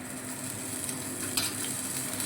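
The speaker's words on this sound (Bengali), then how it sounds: "আদাটা একটু তেলের মধ্যে নেড়ে চেড়ে নিচ্ছি।" Ginger paste frying in hot oil as it is stirred, a steady close sizzle with faint scraping and no voices.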